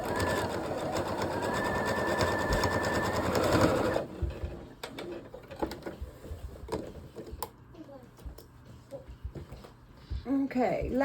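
A sewing machine quilts a fabric block, running in a fast steady whir for about four seconds, then stopping and starting in short stitching bursts with clicks and handling noises; a person talks in between.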